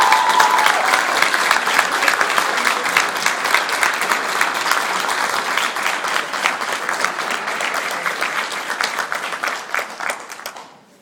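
A large audience gives a sustained round of applause at a baseball coaching award event, dense clapping at a strong, even level that tapers off at the very end.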